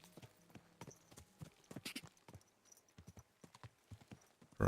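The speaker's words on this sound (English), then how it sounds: "We're almost running her over with a horse." Hooves clip-clop in a video game in an uneven, quick rhythm, fairly quiet, with a brief horse whinny in the mix.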